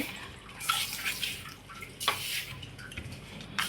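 Water runs and splashes in short bursts as it is added to a flour dough for a festival snack in a home kitchen, fairly faint, with soft mixing noises and no talk.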